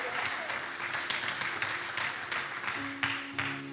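A church congregation applauds in steady rhythmic clapping, many hands together, with voices mixed in underneath.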